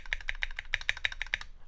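Keys on a Keychron Q9 keyboard with lubed stabilizers are pressed in a quick, steady run of about a dozen crisp, close clacks, evenly spaced and clean.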